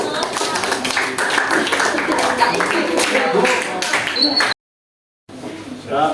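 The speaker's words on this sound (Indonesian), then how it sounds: "Kita beri tepuk tangan untuk" A classroom audience applauds a group presentation with close, dense, steady clapping that cuts off abruptly into a brief silence before resuming faintly.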